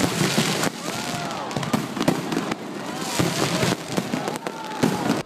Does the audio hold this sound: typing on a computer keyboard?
no